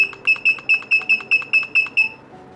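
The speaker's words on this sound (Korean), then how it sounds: "자 알람, 우리 그 전동일 알람입니다. 한번 눌러주시고" Electric unicycle (Nosfet Aero) sounding its alarm-setting beeps while being configured: about ten short, bright, evenly spaced electronic beeps in quick succession, loud and close, with faint background noise.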